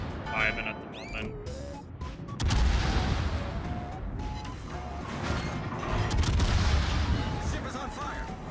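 Naval battle in World of Warships: heavy ship guns boom and shells crash in loud bursts, with mechanical clatter and lighter firing between them, under a voice talking.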